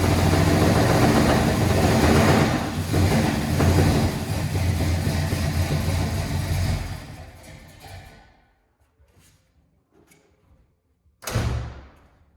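A 1981 Oldsmobile Delta 88 engine with a closed choke runs roughly and loudly up close, then sputters and fades into near silence. A brief burst follows as it tries to catch again.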